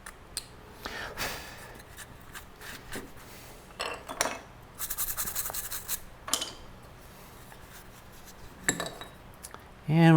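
A knife scraping and cutting through a pumpkin, shaping the teeth of a carved cheesy grin, with intermittent rubbing and slicing bursts close up and brief clatter near the end.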